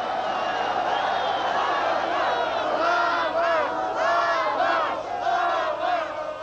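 Large crowd at a Ukrainian independence rally shouting and chanting together, a dense, loud roar of many voices with rising and falling cries throughout.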